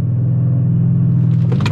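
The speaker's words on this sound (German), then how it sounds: "Ich spanne das Auto vor mit einer Launch Control und dann geht's los" An 800 PS ABT RS6 idles with a deep, steady engine rumble while held on launch control, then its note rises sharply and roughens as it begins to launch.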